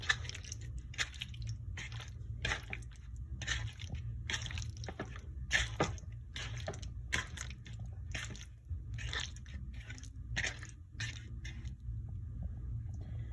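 Chicken stir-fry being mixed by hand: a close, steady run of wet squishing and crunchy squelches in quick irregular pulses over a low constant hum, with no talking.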